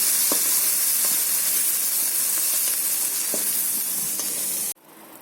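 Steady sizzling of prawns frying in hot oil, with a few soft clinks and stirs, cutting off abruptly near the end.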